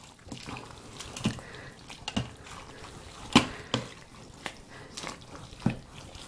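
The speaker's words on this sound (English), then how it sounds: "and just give it a stir" Chicken gnocchi soup stirred in an Instant Pot, a spoon knocking and scraping around the pot in a few separate, moderately loud clinks with faint sloshing between them.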